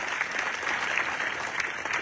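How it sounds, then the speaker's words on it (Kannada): Loud, steady applause from a crowd at a farmers' protest gathering addressed by a guru, dense continuous clapping filling the whole stretch with no voices over it. "ಜೋರಾದ ಚಪ್ಪಾಳೆ ಮೂಲಕ ಧನ್ಯವಾದ ಸಲ್ಲಿಸ್ತಾರೆ"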